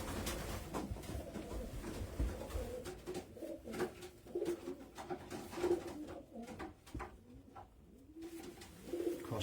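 Racing pigeons coo softly in a loft, several low, rolling calls rising and falling close by, with faint shuffling and rustling between them and no talk.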